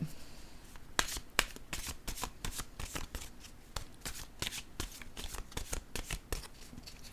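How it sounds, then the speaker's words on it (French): Oracle cards being shuffled and drawn from a deck, a quick run of crisp riffling snaps and soft flicks close by, fairly quiet, with no talking. "Je vais piger une carte pour un message de l'univers ici."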